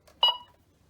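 A talking kitchen scale gives one short, clear electronic beep when tare is pressed, alone in an otherwise quiet room.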